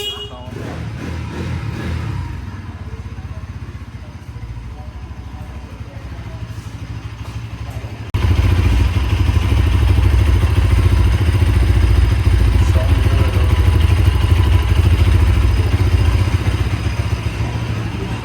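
A Bajaj Pulsar NS200 motorcycle engine idles with a throbbing rumble, then grows louder and heavier partway through as it is revved, with a voice talking over it.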